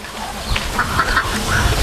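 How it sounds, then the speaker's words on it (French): Ducks at an outdoor school garden quack repeatedly in short nasal calls over a steady background noise, fairly close and without talk. "Ça, c'est les canards."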